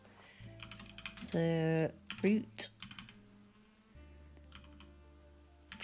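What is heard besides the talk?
typing on a computer keyboard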